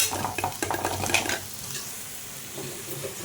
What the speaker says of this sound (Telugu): బిర్యానీలోకి ఆనియన్ వేయించుకుంటున్నాను